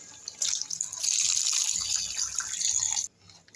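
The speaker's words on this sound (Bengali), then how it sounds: "আমি এবার ঝোলের জন্য জল দিয়ে দিচ্ছি।" Water is poured into a pot of mutton curry to make the gravy, a steady splashing rush lasting about three seconds, fairly close but soft.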